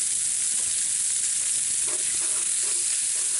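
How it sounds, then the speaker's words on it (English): One medium chopped onion and about a tablespoon of garlic hit a smoking-hot 14-inch Lodge cast iron pan, producing a loud, steady, close-up hiss and sizzle with faint crackles. "You see that pan smoking hot, and there's one medium chopped onion, about a tablespoon of garlic."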